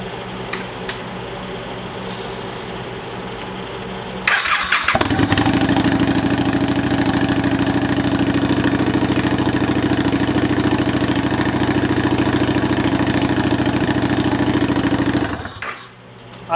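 Turbocharged motorcycle engine with the wastegate flapper missing, bought cheaply on eBay: faint clicks, then the engine fires abruptly and settles into a loud, steady whirring idle for about eleven seconds before cutting off, close by.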